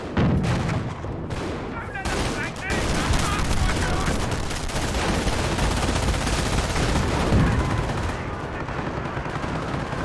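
Small arms fire crackles through a Company of Heroes 4v4 battle, dense overlapping rifle and machine gun bursts rattling continuously for ten seconds with booming shots mixed in.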